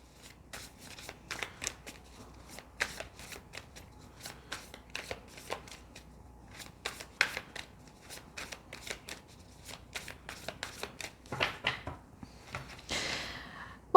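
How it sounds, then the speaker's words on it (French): Tarot and oracle cards are shuffled by hand, a long run of quick papery riffles and flutters with short pauses and a denser burst near the end. "Et ensuite, on va continuer avec les autres cartes, les autres oracles. Je mélange."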